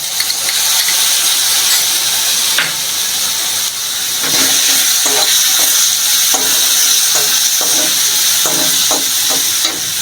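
Ginger and cumin paste hits a hot pan, giving a loud, continuous hissing sizzle with scattered light scraping and knocks from stirring, no one talking.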